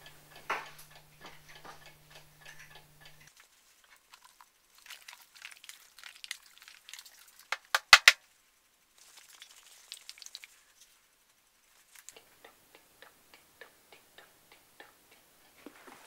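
A clock ticks softly and steadily in a quiet darkroom while black-and-white film sits in the developer, with faint clicks and crinkling handling noises scattered through, plus one sharper knock near the middle; nobody speaks.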